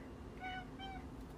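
A pet cat meows twice in a home setting, two short, fairly faint calls close together over a low background hum.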